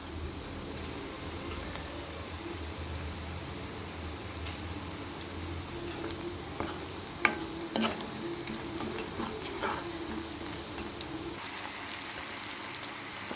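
Oil sizzles softly in a pan while raw plantain is fried with a pinch of asafoetida, a steady faint hiss with scattered light ticks and spoon clinks, no voices.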